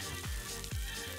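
Mini pancake batter sizzles in oil in a multifunction pancake maker, a steady close frying hiss broken by a few soft low knocks.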